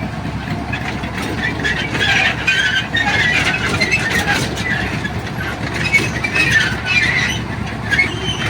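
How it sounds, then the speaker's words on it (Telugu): A small amusement-ride toy train at a fair rumbles and clacks steadily nearby, its engine humming beneath, with faint crowd chatter and voices in the background. "ట్రైన్ అయితే పిల్లలు ఇద్దరు ఎక్కిరు,"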